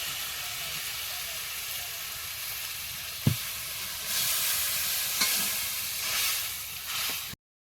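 Mustard, poppy seed and green chili paste frying in a pan with a little water added, giving a steady soft sizzle with brief stirring scrapes and a sharp clink midway, no voices.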